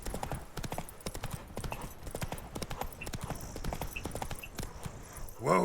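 Roach, Geralt's horse in The Witcher 3, trots with a steady rhythmic clip-clop of hooves throughout, close and clear, ending in a short snort or whinny-like burst.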